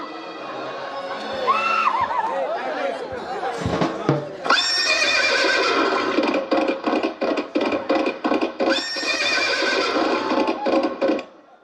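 A horse neighs loudly and close, then whinnies again amid a steady run of hoofbeats clip-clopping on the ground, with brief voices mixed in.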